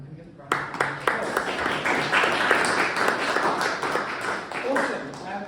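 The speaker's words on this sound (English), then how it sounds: "And we can give a round of applause." Audience applause at a London fireside chat with a lead Oxford COVID-19 vaccine researcher, a steady wash of many hands clapping that starts abruptly and sustains at even loudness throughout.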